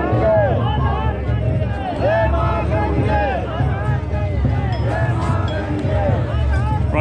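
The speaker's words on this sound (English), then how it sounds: "Everyone in the crowd is chanting." Dense crowd of voices during a joyous Himalayan temple festival procession at Gangotri, near the source of the Ganges, with a loud, continuous babble of chanting and voices filling the whole stretch.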